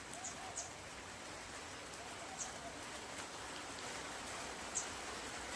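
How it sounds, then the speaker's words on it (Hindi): Rain falls at a hillside ashram, a faint, steady patter and hiss with a few brief, slightly louder drips standing out here and there. "इंद्र महाराज भी बहुत खुश हैं, बारिश हो रही है"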